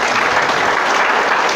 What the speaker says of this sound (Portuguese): Quem crê pode aplaudir e glorificar.